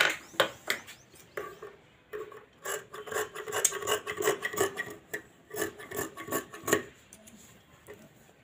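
Scissors roughly cut through silk sari fabric to shape a sleeve, a close series of crisp snipping and rasping strokes in irregular bursts, with short pauses between cuts and no talking.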